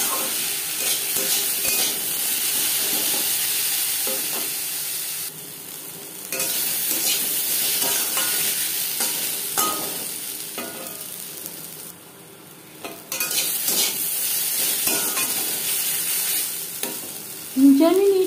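Potatoes being stirred and fried in a pan for a spice-free vegetarian aloo chorchori, with a continuous soft sizzle under repeated scraping stirs and brief pauses, close and moderately quiet throughout.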